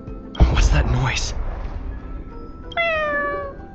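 A single drawn-out, tonal meow with layered harmonics from a cat in the video game Honkai: Star Rail rings out near the end, following a burst of speech-like talk and game-style ambience.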